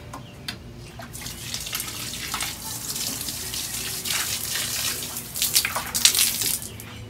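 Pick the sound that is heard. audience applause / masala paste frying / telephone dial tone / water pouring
water pouring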